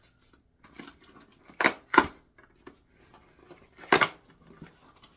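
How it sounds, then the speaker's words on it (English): Sharp scraping rasps of a key cutting through packing tape on a cardboard shipping box, three loud strokes among smaller scratches and rustles of cardboard, close up. "As I open this with my very loud keys."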